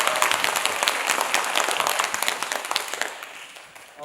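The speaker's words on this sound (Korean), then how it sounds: "그럼 박수 합시다" Audience applause at a Korean environmental talk show event, a dense burst of many hands clapping at once, steady and loud throughout, slowly thinning toward the end.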